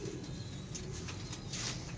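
Pigeons coo in a low, steady murmur on a rooftop loft, several soft overlapping calls running continuously at close range with no voices.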